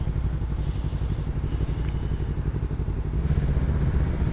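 A 250cc motorcycle engine warms up at idle, a steady low chugging pulse that runs evenly and fairly close throughout, with a faint clatter on top.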